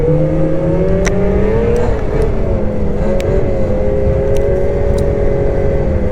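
A Lynx 600R snowmobile engine drones steadily while riding, holding a sustained high-pitched whine that dips and rises slightly with the throttle, loud and close, with faint clicks and knocks over the top and no talking.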